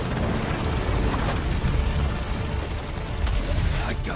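Explosions in a Spider-Man video game during a gunship fight, a continuous loud roaring blast with booming low rumble and crackling bursts throughout, no speech over it.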